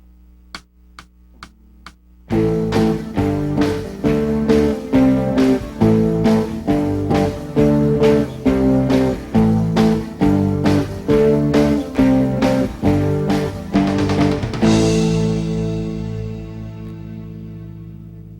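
A few sharp count-in clicks precede a beginner's two-chord guitar song, strummed down four times per measure in a steady, even pattern with the chords alternating, close and clear, ending on a long ringing chord that fades out.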